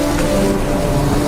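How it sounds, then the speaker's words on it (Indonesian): A rain and storm sound effect plays as a continuous, loud hiss of heavy rainfall with a low rumble underneath, steady throughout with no voices. "Lalu turunlah hujan, datanglah badai dan banjir."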